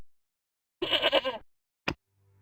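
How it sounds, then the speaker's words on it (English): A sheep bleats in the point-and-click game Broken Sword, one clear wavering bleat about half a second long, followed by a short sharp game sound over near silence. "you all heard that sheep, right?"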